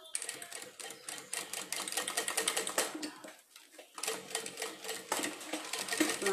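A sewing machine topstitches a round handbag in fast mechanical bursts of rapid needle clatter. It pauses briefly in the middle, then starts up again close by.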